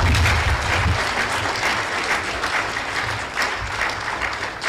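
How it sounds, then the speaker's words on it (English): Audience applause at the inauguration of a TETFund standing committee on research and development, a dense, steady wash of clapping from a large crowd that stays loud throughout. "let us give a massive round of applause to the Executive Secretary of the Tertiary Education Trust Fund"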